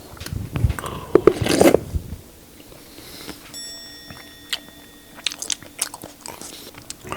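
Someone chews popping boba up close, loud wet bites and crunchy mouth sounds in the first two seconds, then scattered softer chewing clicks and smacks over a quiet room.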